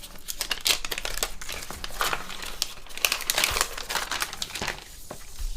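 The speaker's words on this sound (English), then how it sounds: "Taking off the paper cover." Paper cover being peeled and torn off an Apple AirPods Max smart case: close, continuous crinkling and rustling with sharp tearing crackles, alone without talk.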